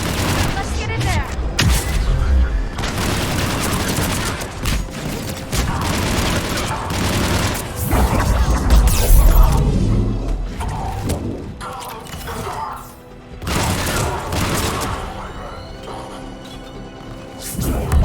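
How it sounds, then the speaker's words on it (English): Gunfire rattles at a checkpoint in the video game Mass Effect during a fight between Cerberus troops and Krogan, with dense loud bursts, booms and crashes over game music and spoken lines. "Shepard, Cerberus troops at checkpoint, attempting to kill Krogan. Need assistance. I see the checkpoint. They're under fire."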